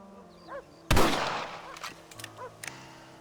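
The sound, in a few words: rifle shots in Red Dead Redemption video game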